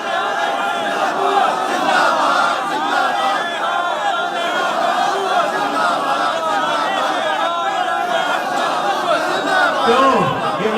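A large crowd at a religious gathering shouts a slogan chant together, a loud, dense mass of voices that rises and falls with chatter mixed in.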